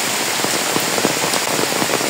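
Heavy rain pours down steadily outdoors near a rising river, a dense, even hiss of countless drops striking surfaces, close and constant with no voices.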